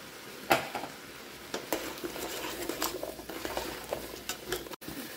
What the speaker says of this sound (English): We're going to add in our potatoes and our carrots.